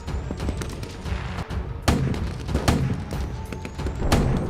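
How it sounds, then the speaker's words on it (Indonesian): Scattered gunshots and booming blasts from Dutch troops attacking Klungkung crack out irregularly over a dense, rumbling battle din, loud and close, with no speech. "Tembakan mulai dilakukan oleh pasukan Belanda."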